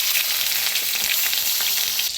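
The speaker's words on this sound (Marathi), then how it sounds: "थोडंसं आता या मिरच्या भाजून घ्यायच्या आहेत" Green chillies roasting in a pan with nigella seeds give off a loud, dense, continuous sizzle at close range, broken only by faint stirring, with no voices.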